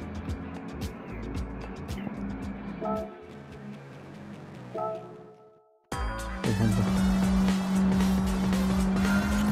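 Race cars in Gran Turismo 7 driven as Japanese front-engine, front-wheel-drive sports cars: engines rumble and whine, then after a brief drop the roar surges loud and steady with tire noise, close up.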